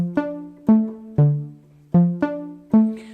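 A piano left-hand pattern from a song, with six plucked-sounding bass notes in an uneven, syncopated rhythm, each decaying quickly, played solo and close.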